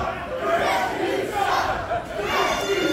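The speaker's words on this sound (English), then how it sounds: "Listen to this crowd." A loud, steady roar from the crowd at a wrestling title match, with cheers and shouts swelling and surging without a break throughout.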